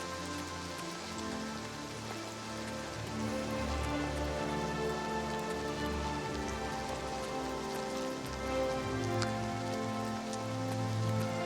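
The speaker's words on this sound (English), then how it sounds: "Man, it rains a lot." Steady rainfall pattering on surfaces in Oblivion Remastered, a continuous soft hiss of drops at an even level under a low humming musical drone, with no talking.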